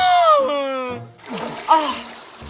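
Water splashing as people bathe in a cold river, with brief splashes mixed in among children's and adults' voices close by.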